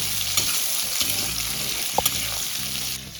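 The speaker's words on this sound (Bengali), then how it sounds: "আলুটা দিয়ে দিলাম, একটু ভাজা ভাজা করে নিই।" Diced potatoes sizzle steadily in hot oil with onions in a pan, with a few scraping stirs and light clinks of a spatula; a continuous close frying hiss with no talking.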